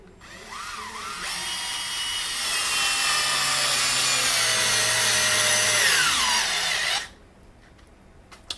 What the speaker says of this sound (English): let's compare it to the NoCry screwdriver. Take the same screw, place it in the pilot hole.